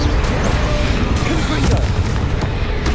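Bombarda spell explosions in the Hogwarts Legacy video game: a dense, continuous rumble of loud booming blasts filling the whole stretch, with no gaps between impacts.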